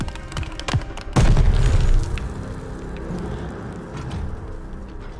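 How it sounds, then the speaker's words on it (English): Grenade blast in Call of Duty Vanguard, a single loud, close boom after a few sharp cracks, then a rumbling tail that fades slowly under scattered battle noise. "Grenade! Get down!"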